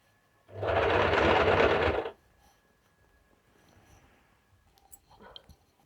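Sewing machine stitching a suit, one steady burst of motor whirring for about a second and a half, then quiet handling clicks and faint rustles.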